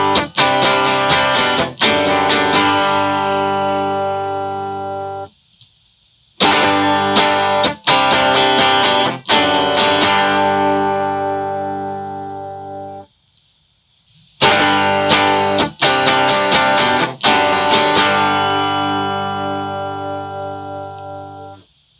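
An electric guitar played through an HX Stomp amp model with a simple EQ, heavy effected chords ringing out in three long phrases separated by brief silences, loud and close with no talking.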